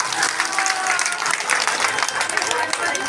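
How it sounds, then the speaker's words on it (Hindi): A gathered devotional audience claps for the mother, a dense, continuous wash of many hands clapping at close range with steady intensity throughout, with faint voices mixed underneath. "माता के लिए ताली बजा दो जरा"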